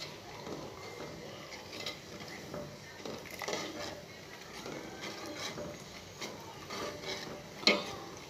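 Thick homemade yogurt made from pure cow's milk being stirred in a pot, soft close scraping and swishing strokes repeating steadily, with faint talk in the background.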